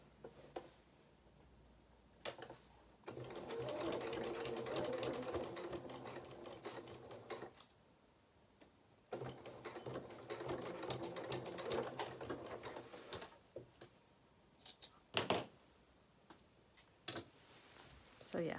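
A domestic sewing machine runs in two long bursts, stitching a dress waistband and bodice, with a steady rapid chatter, quiet and fairly close, then short clicks and handling noises as the fabric is adjusted.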